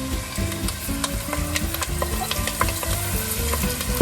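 Onions, garlic and parsley frying in extra virgin olive oil in a pan, a loud, steady close sizzle with rhythmic stirring scrapes and clinks throughout, no talking.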